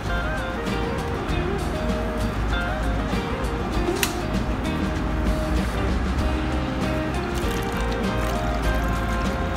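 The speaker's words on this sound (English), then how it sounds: "then you pour some water in." Water poured into an upside-down plastic bottle used as a plant propagation container, a steady liquid rush and gurgle running nonstop at moderate loudness with no talking.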